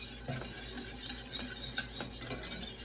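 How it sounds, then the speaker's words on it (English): A whisk scrapes rhythmically around a pan as cocoa is beaten into melting butter and heavy cream, each stroke a soft swishing rasp with occasional light metal taps. "we're just gonna melt that and get that cocoa whisked in real well"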